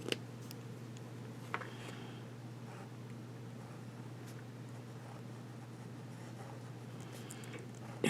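A Fountain Pen Revolution pen with a 1.0 nib writing on paper: faint, close scratching strokes with a few soft ticks over a low steady room hum, no talking.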